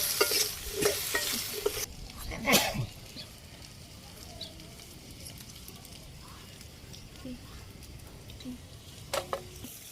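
Vegetables are stirred in a pot on a homemade clay stove in a village kitchen, with a few scraping stirs and soft sizzling early on, then a quieter low simmer with occasional clinks.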